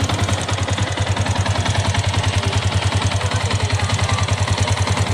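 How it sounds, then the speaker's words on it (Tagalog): A second-hand Yamaha Sniper 150 motorcycle idles close by with a steady, even low putter and a light mechanical clatter that never changes, with no talking over it. "Tapos pakinggan nyo po yung makina kung tahimik po siya."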